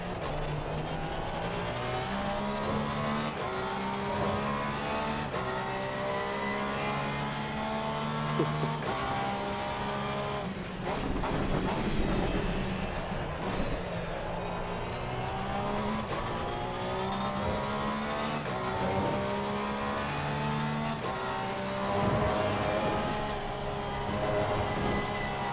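A Porsche 911 GT3 engine screams around the Nürburgring in Assetto Corsa Competizione, loud and continuous, its pitch rising through the gears with brief drops at shifts and a faint tire squeal mid-lap.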